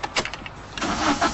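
A car engine is started while the gearbox sits in neutral, with a few sharp cranking pulses that swell into a louder, rougher turnover near the end.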